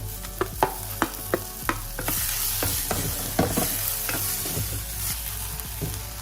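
Tomatoes frying and being stirred in a pan, with a steady sizzle and a run of sharp spoon-against-pan clicks early on, then continued stirring scrapes.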